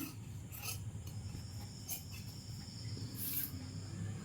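Scissors cut through churidhar fabric in a steady, rasping shear that runs throughout, with a few brief crisper snips above a low background hum.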